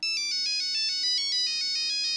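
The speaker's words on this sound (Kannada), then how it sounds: "ಫೋನ್ ರಿಂಗ್ ಆಗ್ತಿದೆ ನೋಡು." A phone ringtone plays a bright electronic melody of quick repeating notes in a steady rhythm, fairly clear and alone, during a Kannada TV serial episode.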